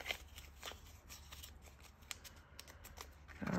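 Paper cash bills rustle and slide as they are stuffed into an envelope, soft close crinkling and swishes with a louder shuffle at the end, no talking.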